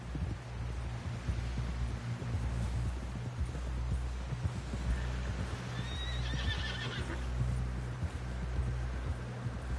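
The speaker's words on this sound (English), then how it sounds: "Someone help John down off this horse." In the video game Red Dead Redemption 2, horse hooves clop steadily while a horse whinnies partway through, with a low rumbling backdrop throughout.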